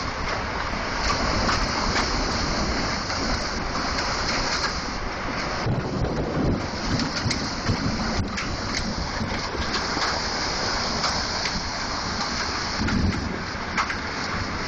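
A strong wind storm roars steadily and loudly, a dense continuous rush of gusting air with buffeting swells and rattling, no pauses and no voices throughout.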